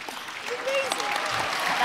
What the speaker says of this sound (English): go back to your seat with this big round of applause